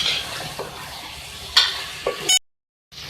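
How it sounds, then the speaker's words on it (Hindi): Potatoes stirred and fried in a pan for beef Balochi aloo gosht, a sizzle under a few scraping stirs and clanks of a spoon, then a sudden brief silence before the frying resumes. "इसको मिक्स करेंगे अच्छी तरीके से और इसको हम भून लेंगे।"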